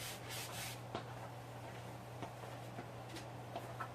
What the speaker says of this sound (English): This rag just has some wax on it from before. And just this little bit, just kind of buffing it into it